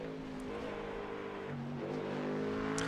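A Ford Mustang race car's engine droning steadily on a track in Japan, its tones shifting in pitch as the car slides and rounds the circuit, loud and continuous with no voices.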